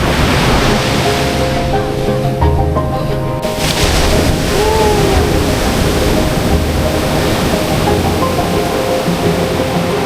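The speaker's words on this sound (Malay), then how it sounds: "Ombak besar tu." Big ocean waves break on Lampuuk beach in a loud, constant roar of surf with steady wash and wind, close by and unbroken throughout, with no talk over it.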